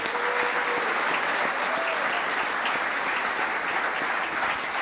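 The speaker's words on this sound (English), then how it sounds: "So, another round of applause." Sustained, even applause fills an awards banquet hall, a dense, loud clapping crowd that keeps going without pause throughout.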